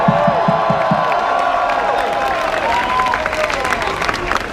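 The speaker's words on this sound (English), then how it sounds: "Let's give them a round of applause." A crowd at a political rally claps and cheers, with whoops and excited voices rising over steady applause.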